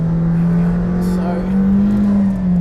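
A 2018 McLaren Senna's high-revving engine drones steadily up close, with a sharp snap of a quick gear change partway through.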